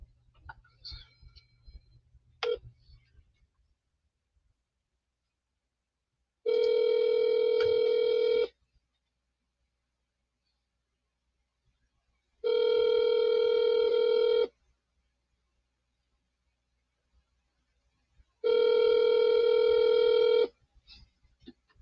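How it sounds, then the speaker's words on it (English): A telephone ringback tone heard while placing a call: three evenly spaced two-second buzzing rings separated by long silences, preceded by a few faint clicks, steady and moderately loud. "Pick up the phone."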